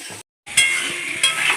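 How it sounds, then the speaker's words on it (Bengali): Potatoes fry in a pan with turmeric as they are stirred and curry leaves are dropped in. A steady close sizzle with scraping breaks off briefly, then returns louder in two sharp hissing bursts. "আমি ভালো করে নাড়াচাড়া দেবো"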